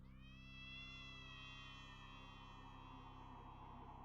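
A cat in the Homestuck video game gives a long, drawn-out meow that rises and slowly falls, sustained and fairly steady over a constant low background hum.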